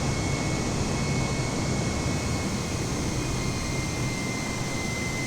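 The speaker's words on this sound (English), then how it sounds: "Landing gear up. Throttles back to idle." An Airbus A320neo jet climbs after takeoff in Microsoft Flight Simulator, heard as a steady, dense engine roar with a faint high whine, holding constant throughout with no talk.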